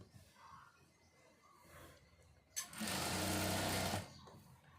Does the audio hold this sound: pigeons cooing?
no